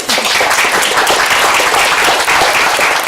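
Audience applause at a coastal prairie planting event in Houston with the mayor, a dense, steady wash of many hands clapping that holds at full loudness for about three seconds without pause.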